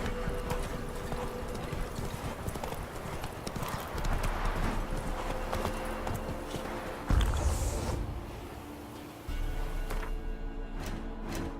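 Galloping horse hooves from The Witcher 3 beat out a steady, rhythmic clip-clop, with a short whinny and a few louder jolts partway through.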